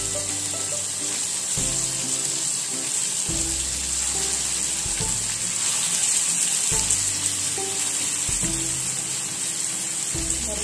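Brinjals stuffed with dill frying in oil in a pan with onion and tomato, giving a steady soft sizzle beneath continuous tonal background music.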